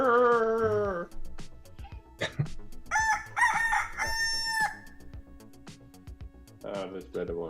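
A rooster crows loudly in a long cock-a-doodle-doo, played as a sound effect over steady background music, with someone talking before and after it.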